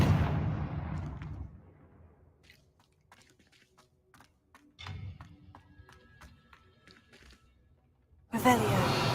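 Confringo blasting spell in a video game, going off as a sharp burst that fades away, then clicks and taps, a short thud near the middle and a loud blast at the end.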